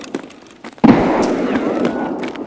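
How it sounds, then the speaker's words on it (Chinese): A grenade in the shooter game Escape from Tarkov goes off with one sudden loud blast followed by a long rumbling decay, after a few faint quieter sounds beforehand. "继续扔雷往前压，让他感受到什么叫人工轰炸圈"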